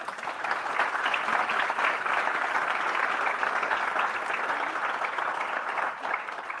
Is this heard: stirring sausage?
no